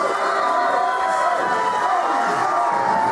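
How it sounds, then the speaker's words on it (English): A packed crowd at a PWU wrestling show roars without pause after Karl McKaigue wins the All Ulster Championship gauntlet, loud massed cheering and shouting filling the hall. "Crowd are going nuts."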